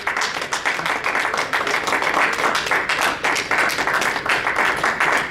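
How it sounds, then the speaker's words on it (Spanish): Church congregation clapping together in a steady, sustained wash of applause that holds evenly throughout, moderately loud, with no voices standing out. "¿Cuánto le dan un aplauso al Señor por Dios?"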